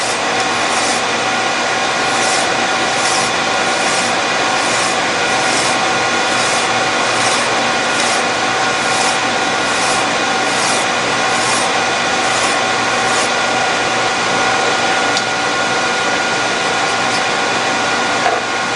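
A file polishing a workpiece spinning in a lathe: a continuous loud motor hum with a steady rhythmic scraping pulse repeating about every half second for most of the stretch, no talking.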